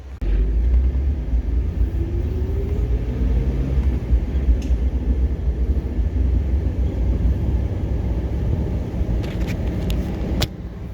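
A 2004 Jeep Wrangler TJ driving with its top off gives a steady, loud low engine rumble mixed with road and wind noise, with a few faint clicks and knocks near the end.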